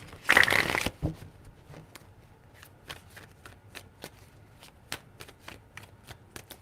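Tarot cards shuffled by hand: a loud burst of riffling up front, then a steady run of crisp card slaps and snaps at a fairly even rhythm, close and alone.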